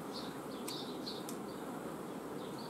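Honeybees around a productive hive, a steady low hum filling the background with faint high chirps and a couple of brief clicks on top, no voices.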